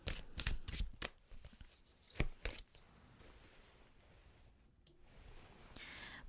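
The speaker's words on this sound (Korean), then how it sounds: "오늘은 타로 카드 말고 무놀로지 카드로 한 장 뽑아보도록 하겠습니다" An oracle deck is shuffled by hand in several quick riffling bursts and sharp card snaps, then settles into a soft rustle as a single card is drawn, close and fairly quiet.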